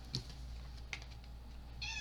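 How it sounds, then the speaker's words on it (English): A cat gives a couple of short, faint meows early on, then a clearer meow near the end over a quiet indoor hum. "I don't know if you can hear her meowing."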